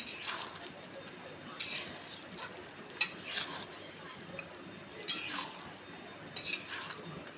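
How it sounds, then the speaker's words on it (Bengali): Chicken korma is stirred in a pot, producing quiet intermittent scrapes and metallic clinks of a spoon against the pan at irregular intervals over a low, hushed background. "এবার একটু নেড়ে নেবো"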